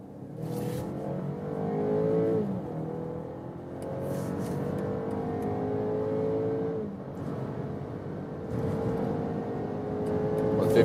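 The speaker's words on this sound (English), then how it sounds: "I'm driving at high speed on the German Autobahn. Sport mode and S shifting mode from 50 kilometers now." An SUV in sport mode with S shifting accelerates hard from 50 km/h on the German Autobahn. The engine note climbs steadily through several gear changes over a constant, loud cabin drone, with no talking.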